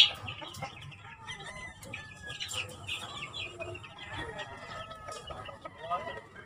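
A backyard flock of chickens and roosters clucks and crows steadily at moderate distance, with overlapping calls and a low background murmur from people talking faintly.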